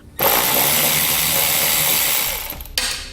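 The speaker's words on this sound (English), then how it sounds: "So you want to grab an 8mm socket and we can pull those out." An 8mm socket on a ratchet backs out wheel well liner fasteners on a 2018 BMW 3 Series, giving a loud, steady, close-up clicking whir that runs almost three seconds, then a brief pause and a short final burst.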